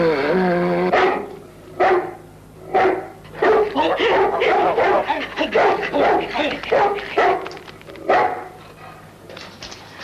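Dog barking in repeated loud bursts with short yips and whimpers between them, close by, mixed with a film soundtrack and occasional voices.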